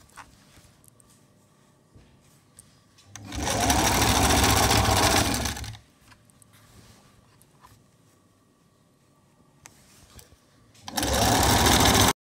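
A sewing machine stitches a long kameez in two loud, close bursts of fast whirring, separated by a quiet pause with faint handling noise.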